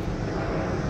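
A fixed-wing airplane passes overhead, a steady broadband engine roar that stays loud and even throughout the short stretch, with no talking.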